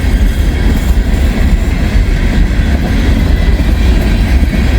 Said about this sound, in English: A pretty long train too.